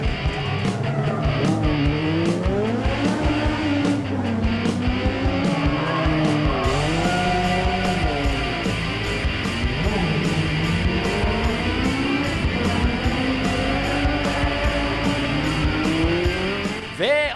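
Onboard a Volkicar race car during a V1 Challenge race, the engine howls continuously up and down through gear changes with occasional tire squeal, loud and close throughout.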